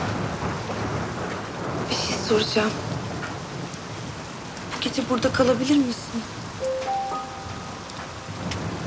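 Steady rain patters throughout with low rumbles of thunder, while a few voices talk quietly over it.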